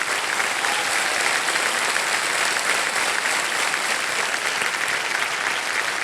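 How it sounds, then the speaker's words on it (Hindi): Loud, continuous studio audience applause for a quiz show contestant, thick and even from start to finish without pause. "तालियां बज जाए उनके लिए।"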